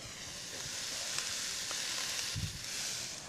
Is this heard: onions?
yes